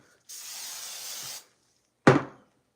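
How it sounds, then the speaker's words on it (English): Aqua hairspray released in one steady hiss lasting about a second, close and fairly loud, followed after a pause by a sharp knock or clatter. "I used a little bit of aqua hairspray"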